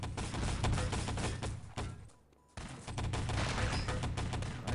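Rifle and automatic gunfire rattle in dense bursts during a competitive World War II shooter match between Finland and the Czech Republic, with a brief lull near the middle before the shooting resumes.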